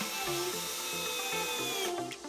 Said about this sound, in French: c'est parti pour visser la totalité de la vis